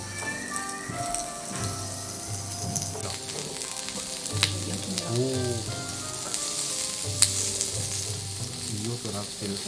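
Sirloin beef sizzling and crackling in a hot pan at a hot-spring inn, a continuous close fry with scattered pops and a brief stirring scrape partway through, alone without talk.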